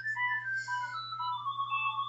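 A landline telephone rings steadily in a home, its electronic ring pattern repeating clearly over a constant low hum, with no talking.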